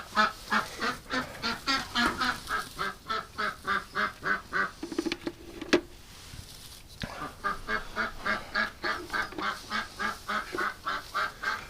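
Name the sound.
ducks and geese quacking and honking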